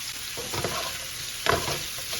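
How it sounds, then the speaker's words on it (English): Butter and onion hiss in a hot pan just used for searing shrimp, a constant close sizzle with a couple of brief stirring scrapes and no talking. "We're gonna throw in our butter, and we're gonna deglaze the pan, and we're going to throw in our onion."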